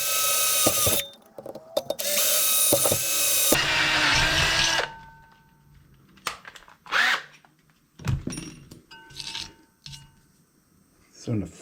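A power drill boring bolt-sized holes in a wooden tool rack for a CNC machining center, loud whining bursts at the start, then quieter intermittent grinding and scraping with pauses and handling noises.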